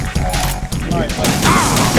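Bursts of gunfire from Metal Gear Solid 2, loud rapid shots and crashes packed tightly together, with speech mixed in over the fusillade.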